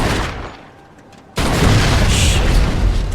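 A gas tank shot in the Mafia 2 video game bursts into a loud, sudden explosion after a brief lull, followed by a sustained roaring rumble of fire and debris.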